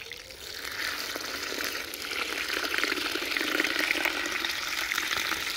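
Water pouring into a bucket half filled with horse manure, a steady rushing gush that grows a little louder and fuller as the bucket fills, heard alone and close.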